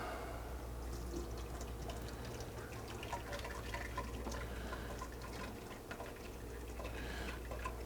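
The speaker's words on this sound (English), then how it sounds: "we're going to run that through a strainer and get a lot of that the water and grease out of there" Water and grease from cooked meat draining through a strainer into a kitchen sink, a faint, continuous trickle and patter with scattered drips.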